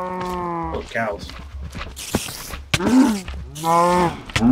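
Cows in a video game moo repeatedly and loudly close by, long harmonic lows at the start and end with scraping game sounds in between.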